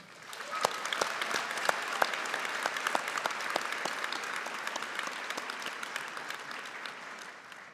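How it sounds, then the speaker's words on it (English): Graduates and guests at a college convocation ceremony applaud families and friends, a broad steady wash of clapping from a large hall audience with distinct individual claps standing out, moderately distant and sustained. "I think they deserve a round of applause as well"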